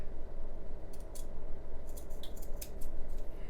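Scissors cut through fabric for a sewing scrub top, giving several crisp snipping bursts in short clusters over a steady background hum, close and clear.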